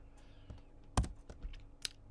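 Keys tapped on a computer keyboard while entering a value into a Python program, a few quiet separate clicks with one sharper keystroke near the middle, close by with no talk.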